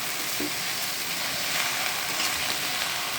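Okra bhaji frying in oil over low heat while being stirred, a continuous soft sizzle with faint scraping from the stirring, steady and close, with no voices.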